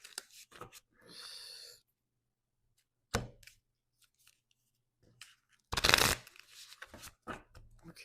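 Tarot cards are shuffled in quick riffling bursts, with one long loud riffle and a few shorter flicks and taps between quiet gaps.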